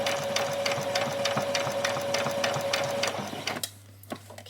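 A sewing machine stitching back and forth around a small doll's dress, its rapid needle clatter steady and close for about three and a half seconds before cutting out into quieter handling noise.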